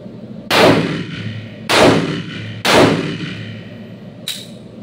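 Three loud pistol shots cracking out at a shooting range, spaced roughly a second apart with ringing decay, followed by a fainter metallic click.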